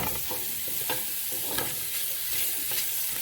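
Onions fry and sizzle steadily in a pan for a Guinness stew, with a continuous hiss broken by occasional stirring scrapes and clacks, close and moderately loud, no talking.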